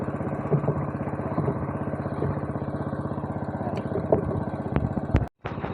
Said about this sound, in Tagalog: Dalawang makina na yung ginagamit natin.